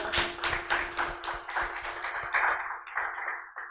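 Audience clapping at a leadership event, a handful of distinct claps in an uneven rhythm with a faint steady ring beneath, thinning out toward the end.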